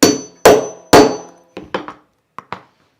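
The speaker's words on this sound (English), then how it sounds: "the hammer" Several sharp hammer blows setting a snap fastener on a piece of clothing during mending. Three loud, close strikes come first, followed by four lighter taps, each with a brief ringing decay and no talk.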